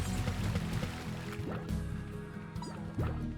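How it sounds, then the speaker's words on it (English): Water shot onto crystals in the game Slime Rancher gives liquid splashing and dripping with soft squishy bursts and rising bubbly chirps over a steady game hum. "if you ever want to clear out these crystals, just shoot some water on them"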